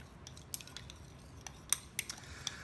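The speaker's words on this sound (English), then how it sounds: "Give that a stir." Mica and alcohol are stirred into clear melt-and-pour soap base, faint clinking and light scraping of a utensil against a container in an irregular rhythm, with a few sharper taps, quiet and close.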